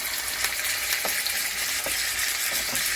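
Fish fries in a hot frying pan, a dense steady sizzle close up with faint clicks and small pops scattered through it.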